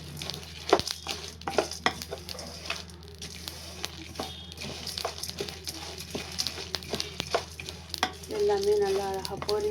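Spices fry in a hot pan with a close, crackling sizzle, mixed with repeated scraping stirs and clicks that build louder toward the end.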